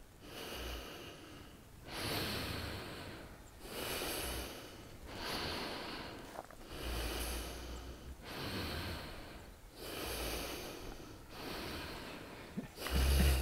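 Slow, deep breaths drawn in and out through the nose in a regular rhythm during a morning exercise routine, close to the microphone, six rounds of airy inhaling and exhaling with no talk.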